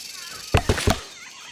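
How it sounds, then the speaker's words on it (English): Rattlesnake rattling in the survival game Green Hell VR, heard as three quick, close bursts of dry percussive rattle within half a second, alone over a quiet background. "Rattlesnakes sound like this."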